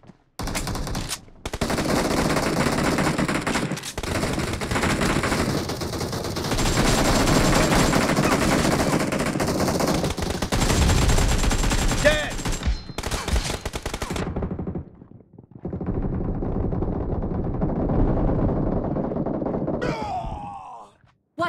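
Gunfire in the mobile battle game PUBG Mobile during a team deathmatch, long loud bursts of automatic fire with short gaps, broken by a near-silent pause before another sustained stretch of shooting.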